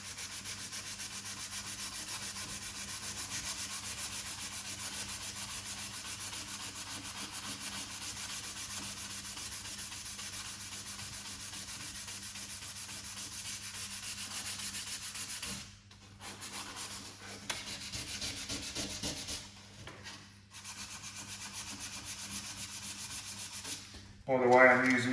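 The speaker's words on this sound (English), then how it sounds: "I'm using 320 sandpaper to flatten these down" Hand sanding of primer on the bodywork of a red four-door Vauxhall Corsa C SXi with 320-grit sandpaper, a continuous close rubbing rasp for most of the clip, then broken into shorter strokes with brief pauses near the end.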